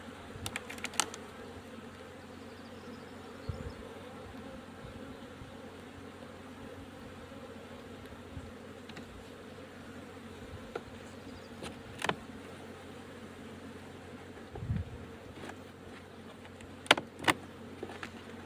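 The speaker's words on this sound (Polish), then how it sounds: "Ale pszczoły dosyć jeszcze jest z tego co widzę." A steady, dense drone of many honeybees buzzing together in an open hive that recently swarmed, with occasional faint clicks and taps over the continuous hum.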